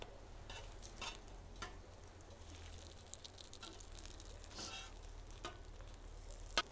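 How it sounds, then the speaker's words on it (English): An English muffin toasting in a frying pan, with a soft, steady sizzle and a few scraping stirs and clicks from a utensil, faint and close with no voices. "Now I'm going to flip the English muffin, get it toasty on both sides."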